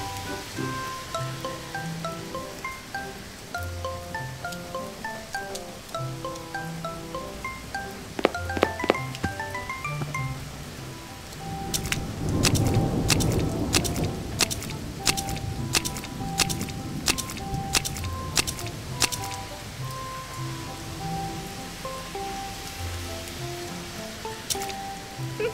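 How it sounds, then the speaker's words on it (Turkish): Cartoon rain patters steadily while footsteps in rubber rain boots walk through it, with bright tonal chimes and plinks from the animated scene layered over the downpour throughout. "Şimdi yağmurda yürüyebilirsin."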